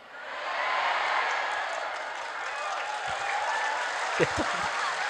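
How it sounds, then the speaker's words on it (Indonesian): Applause from a congregation at an Indonesian religious talk, a broad continuous wash of clapping and crowd noise with a few louder knocks near the end. "Nah, tepuk tangan."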